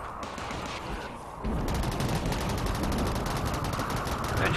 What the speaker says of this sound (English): they are shooting that wall apart